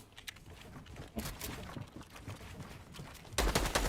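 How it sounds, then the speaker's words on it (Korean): Video game gunfire and footsteps: bursts of sharp shots and rapid taps scattered throughout, with a louder burst at the end, moderately near. "총소리 총소리 막 나요. 총소리 발소리"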